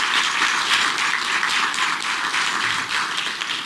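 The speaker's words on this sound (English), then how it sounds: "Let's give a big round of applause." Steady, dense audience applause at an event held on a campus, continuous clapping from a sizable crowd throughout with no voices on top.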